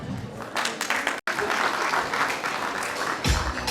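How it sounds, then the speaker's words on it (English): Audience applause at a nursing and midwifery school graduation ceremony, a dense, steady wash of clapping from a large crowd that carries on throughout, with one brief cut near the start. "Let us give them a mighty hand"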